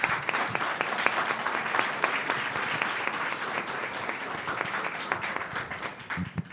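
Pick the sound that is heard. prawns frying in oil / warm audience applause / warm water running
warm audience applause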